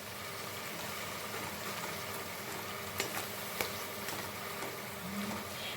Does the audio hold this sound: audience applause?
no